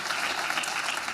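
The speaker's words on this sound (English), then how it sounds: "Y'all are clapping for yourselves." Steady, dense applause from the audience at a legislative breakfast on mental health, a brief burst of many hands clapping together at moderate volume.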